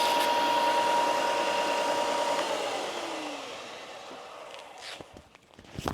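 Bandsaw cutting away bulk wood from a spatula blank on a wood lathe project, a steady loud whine that fades in pitch midway, followed by brief knocks and handling noises near the end.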